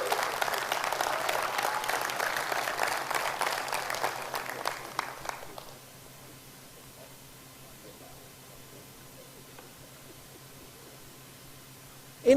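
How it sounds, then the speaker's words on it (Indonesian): A crowd at a leadership training meeting gives a man a round of applause: loud, dense clapping for about five seconds that trails off into quiet room hum, with a sharp noise at the very end. "Tepuk tangan untuk Pak Andi."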